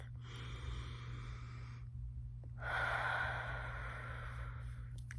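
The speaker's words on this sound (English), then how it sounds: "We can also start today with taking a deep breath." A person takes a long, audible breath close to the mic: a steady inhale, a short pause, then a louder, fuller exhale, over a low steady hum.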